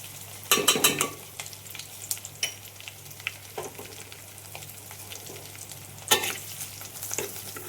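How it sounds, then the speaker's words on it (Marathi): Curry leaves, red chili powder and turmeric hit hot oil with reddened garlic, giving bursts of crackling sizzle near the start and again around six seconds, with lighter spatter and stirring scrapes in between. "लसूण जरा लालसर झाले आता टाकते मी यात कढीपत्ता आणि हे लाल तिखट मी हळद"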